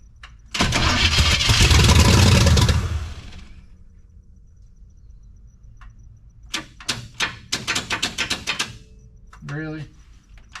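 A 1972 Chevrolet C10 truck with a small-block 350 V8 and a dirty carburetor, unstarted for over 20 years, gives a loud roaring burst. A quieter pause follows, then a run of rhythmic cranking pulses and a short final rattle.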